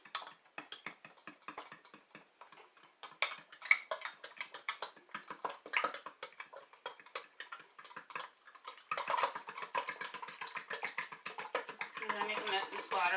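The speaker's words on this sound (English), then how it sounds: "Gonna mix it." A spoon or whisk stirs a Crockpot-brand beef stew seasoning packet into water in a measuring cup, making fast rapid clicking and tapping strokes that grow busier toward the end.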